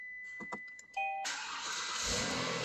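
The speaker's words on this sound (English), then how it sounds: "we're gonna just start the car up" A car engine starts up after a few key clicks and faint warning chimes: the starter catches abruptly and the motor settles into a steady, close idle roar.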